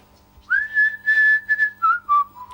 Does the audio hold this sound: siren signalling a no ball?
no